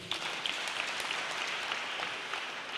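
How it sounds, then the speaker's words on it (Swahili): A church congregation at a Kikuyu service in Karatina gives the pastor steady, fairly distant applause, a dense even patter of many hands clapping with no talk. "Tafadhali tumpigie mchungaji makofi"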